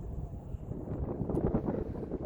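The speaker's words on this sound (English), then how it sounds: "I know it's very windy." Strong wind on the Continental Divide Trail near Lordsburg buffets the microphone, a continuous low rumbling roar with no one speaking.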